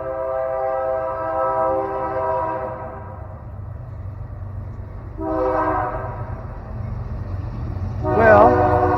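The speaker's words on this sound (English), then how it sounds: "sorry for the noise of the train." Freight train rumbling past in the small town of Elmdale, Kansas, with a long horn blast followed by two shorter toots over a continuous low rail roar, loud and close.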